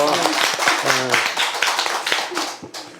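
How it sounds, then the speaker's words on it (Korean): An audience at a Catholic spiritual lecture claps in a brief burst, with scattered hand claps fading toward the end while a voice speaks over the start. "박수 한번 보내셔요"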